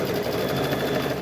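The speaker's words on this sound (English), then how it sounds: "And then we're going to stitch across here." A sewing machine runs steadily as it stitches across a quilting fabric piece, a continuous close, even mechanical whir with no talking.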